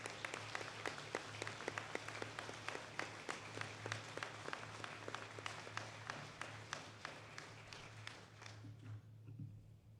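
An audience at a military Court of Honor ceremony for a Minnesota Army National Guard honoree gives sustained, even applause that carries on for about ten seconds before thinning out, heard from a slight distance over a low hum.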